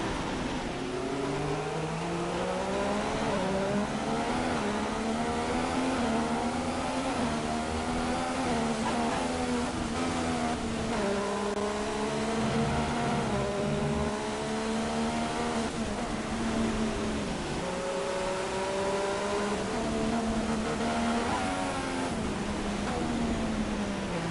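A Haas F1 car's engine in the F1 2016 racing game, at the Chinese Grand Prix on worn tyres, revs steadily with rising and falling gear-shift pitch sweeps, loud and continuous throughout.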